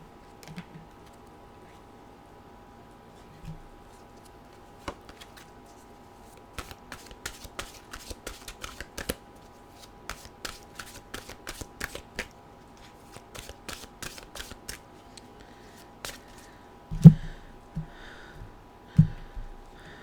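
Mantra cards shuffled by hand, heard as quick bursts of crisp riffling clicks that come in clusters and grow busier toward the middle. A few soft low thumps follow, with no talking.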